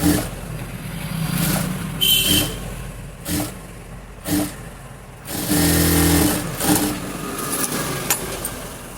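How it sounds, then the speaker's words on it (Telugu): Sewing machine stitching a double stitch along frock sleeves, running in several bursts of steady mechanical whirring separated by short pauses, loud and close. "మళ్ళీ ఒక డబుల్ స్టిచ్ అనేది వేసుకోవాలి."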